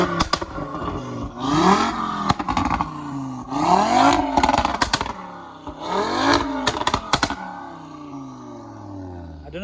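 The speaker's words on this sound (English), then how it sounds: "We'll get a few revs in before we get kicked out, I'm sure" Audi RS3 engine, tuned to 520 bhp with no soft limiter, revving hard three times in long rising sweeps, each climb followed by sharp crackles and pops on the drop, loud and close.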